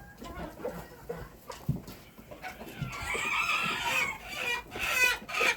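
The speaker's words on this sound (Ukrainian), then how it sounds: "О, вже почала квокати оця курочка." A hen on a farm clucking repeatedly in short, uneven bursts close by, growing busier and louder toward the end with some squawky calls; a voice is faintly present.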